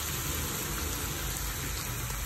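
Crushed shallots, onion and garlic frying in oil in a pan, a steady, dense sizzle that hisses evenly throughout and cuts off abruptly at the very end, with no talking.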